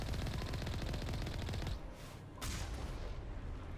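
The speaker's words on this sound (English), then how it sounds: "Lava actually pops up when I shoot it." Dense, rapid automatic gunfire in the Mass Effect video game, sustained and loud, briefly pausing before resuming, with crackling bursts mixed in from lava popping where the shots hit.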